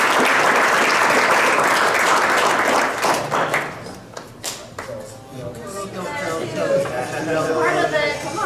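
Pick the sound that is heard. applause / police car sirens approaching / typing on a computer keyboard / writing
applause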